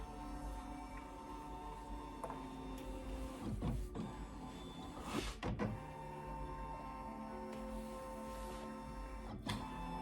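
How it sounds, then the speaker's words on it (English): An embroidery machine with a built-in camera scans fabric held in its hoop, giving a steady mechanical whir with a few brief clicks and clunks, close and alone. "right now what it's doing, if you don't remember, it's scanning my fabric in the hoop"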